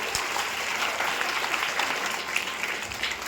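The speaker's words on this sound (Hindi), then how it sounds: "इसके लिए एक बार सर के लिए जोरदार ताली आप लोग बजा दीजिए" A school audience claps loudly for a visiting official at a Swachhta Sewa Abhiyan programme. The applause is vigorous and sustained, a dense roomful of hands beating steadily with no talk over it.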